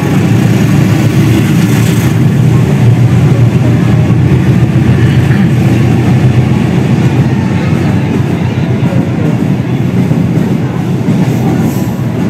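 A container freight train rolls through Kranji station, a loud, steady low rumble with rhythmic wheel clatter that holds close and constant for the whole pass, with no voices.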